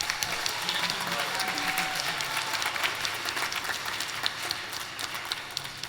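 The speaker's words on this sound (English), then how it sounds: "So please, in spirit, give her applause." An audience at a high school fall choir concert claps steadily, a dense, even wash of applause filling the hall.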